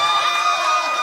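An audience at a Tulsa mayoral election night watch party claps and cheers in a steady, dense wash of crowd noise that holds at an even level for the whole moment.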